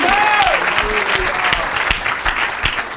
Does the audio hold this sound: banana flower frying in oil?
no